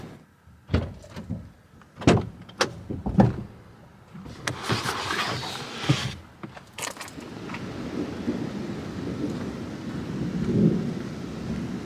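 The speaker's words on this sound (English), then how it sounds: "but there's some thunder" Thunder rumbling during a thunderstorm at a remote truck camping spot off the highway, with several sharp cracks and booms early, then a long, low rolling rumble under steady rain.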